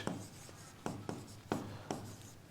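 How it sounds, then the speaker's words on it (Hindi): Quick scratchy strokes as something is written on a board during a maths lesson. About six short, sharp scrapes come at an uneven pace, close but quiet. "तो मैं यहीं पे लिख देता हूं"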